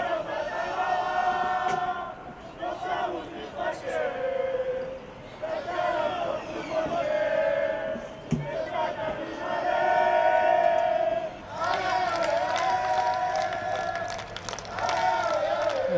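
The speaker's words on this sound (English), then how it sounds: "we can hear some song encouraging the car from Barcelona on" A crowd of supporters sings and chants a rousing song for Barcelona's driverless race car at a Formula Student autocross event. The voices are loud, steady and continuous, with a brief dip near the middle.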